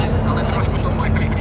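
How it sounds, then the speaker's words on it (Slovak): Airbus A380 flying low with flaps extended at the SIAF 2017 airshow at Sliač air base, a steady loud jet roar filling the short stretch under continuous commentary. "Takto sa vám ukazuje Airbus 380"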